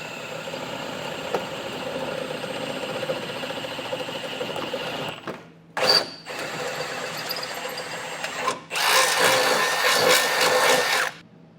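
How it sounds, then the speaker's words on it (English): Sustained drill whine boring through sheet metal on a 2017 Ford Explorer, running in several bursts separated by brief stops, close and fairly loud, with a harsher, brighter final stretch. "drill through this piece of sheet metal"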